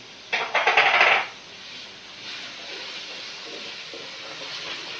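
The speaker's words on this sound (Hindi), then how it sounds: "प्याज को फ्राई करते हुए 1 मिनट हो गया है" Onions frying in a pan with ginger-garlic paste and green chili for Pakistani shahi mash daal, a loud burst of sizzling at first that settles into a softer, steady hiss.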